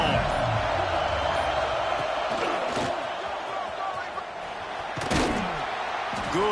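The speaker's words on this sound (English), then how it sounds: "This crowd ready to make its presence known." Stadium crowd at a top-25 Penn State college football game, a loud continuous roar of many voices with a couple of sharp thuds rising over it.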